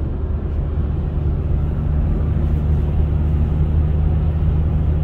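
A Hyundai i40 CW 1.7 CRDI diesel cruising in sixth gear on a manual six-speed gearbox, heard from inside the car as a steady low engine and road rumble with no talk.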